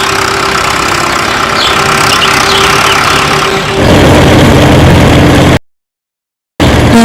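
A loud engine drones steadily, shifting to a rougher, heavier rumble partway through, then briefly cuts out before resuming.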